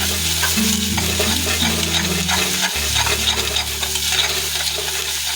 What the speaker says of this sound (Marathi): नंतर इथे आपण एक अंडा घालतात हे छान असं मिक्स करून घ्यायचं